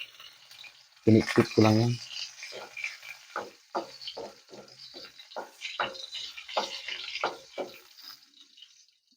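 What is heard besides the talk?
garlic sautéing in oil with string beans and squash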